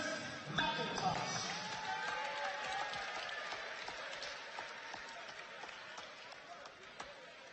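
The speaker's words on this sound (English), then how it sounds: "A round of applause for senior Chris McIntosh." Crowd applause at a 2019 SWAC college basketball game between the Alabama State Hornets and Jackson State Tigers, a steady arena-wide clapping roar lasting throughout, with sharp ball bounces or footfalls punctuating it and announcer talk faintly underneath.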